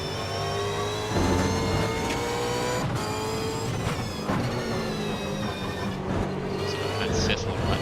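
Holden Racing Team race car at Sandown in the Super 2 series, heard onboard: a loud, steady engine drone with gear changes and rising revs, while commentators talk over it throughout.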